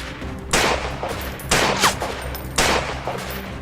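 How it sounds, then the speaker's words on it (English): Heavy gunfire in the Mount and Blade and ArmA combined game, with three loud broadband bursts of shots about a second apart over steady background noise, and no talking. "Under heavy enemy fire."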